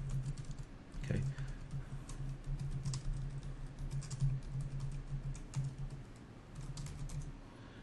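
Faint computer keyboard typing in light, scattered clicks runs under a steady low electrical hum, with a soft thump near the start.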